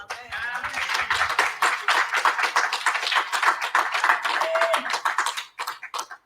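Clapping from a congregation at a church night of prayer, with dense hand claps and cheering voices filling the room, loud and continuous for several seconds before thinning out near the end.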